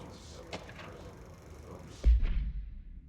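A single heavy sniper shot in the game Control: a deep booming blast with a rumbling tail, heard after a stretch of quiet ambient sounds.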